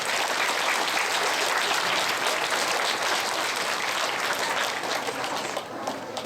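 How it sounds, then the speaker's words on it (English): Sustained applause from a crowd at the opening of a sports stand, honouring a barbecue sponsor; dense, even clapping fills the whole stretch, starting to thin out only near the end. "we'd like to give them a big round of applause for that"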